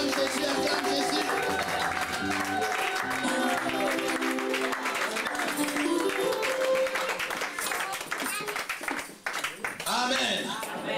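A church congregation applauds and acclaims Jesus during an evangelist's service, with steady clapping and crowd noise under ongoing talk and musical tones.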